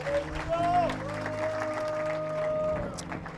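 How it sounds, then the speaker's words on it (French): A church congregation claps together in a sustained round of applause, heard under a speaking voice and sung or held vocal tones. "Acclamons Dieu très fort."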